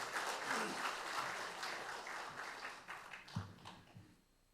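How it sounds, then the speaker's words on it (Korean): An assembly at a founding ceremony for a society honoring an independence activist breaks into big applause for the next speaker, a sustained crowd of clapping hands that slowly thins and tapers off. "큰 박수로 맞아주시기 바랍니다"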